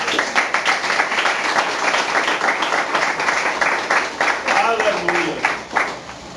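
A church congregation claps together with a loud, busy patter of many hands, while voices carry over and through the applause for the whole stretch.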